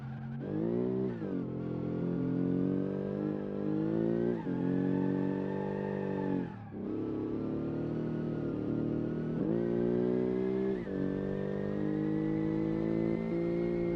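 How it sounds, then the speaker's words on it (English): A car with a sequential gearbox revs hard through repeated upshifts, each pull climbing in pitch before a quick break and a drop to a lower note, loud and close. "Listen to the sequential gearbox."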